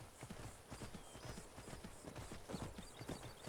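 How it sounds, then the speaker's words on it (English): Horse hooves clip-clop steadily while a horse is ridden in Skyrim, a rhythmic run of close, moderately loud hoofbeats over a busy game background. "So now we're going to ride Frost a little bit"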